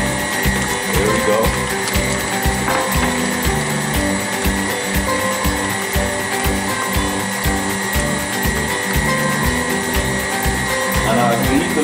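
Electric mixer beating pound cake batter with a continuous rhythmic mechanical whir and ticking clatter, steady and close throughout.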